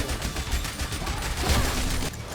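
Rapid SMG gunfire from the Yet Another Zombie Survivors game, a dense, continuous rattle of shots at steady volume throughout.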